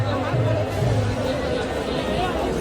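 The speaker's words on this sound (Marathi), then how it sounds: "खूप क्राऊड आहे, खूप क्राऊड आहे." Dense crowd babble fills a packed Ganpati festival procession street, a steady close hubbub of many overlapping voices with a low rumble underneath throughout.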